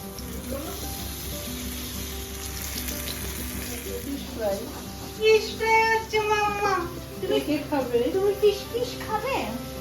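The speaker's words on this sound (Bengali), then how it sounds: "তাওয়াতে এবার পমফ্রেট মাছগুলো বসিয়ে দিচ্ছি তাওয়া ফ্রাই পমফ্রেট" Pomfret fish frying on a tawa at a rooftop picnic, a steady low sizzle running throughout, with people and someone talking over it in the later part.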